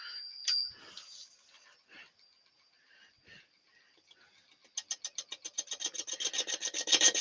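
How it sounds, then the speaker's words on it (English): A wood lathe turns a winged bowl in hit-and-miss fashion as a gouge cuts with its bevel rubbing. Scattered light scrapes give way to a fast, regular series of loud rasping pulses, each one a wing striking the tool. "So bevel rubbing as much as you can on hit and miss turning."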